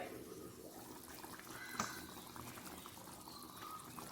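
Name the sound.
water poured into pressure cooker with beef curry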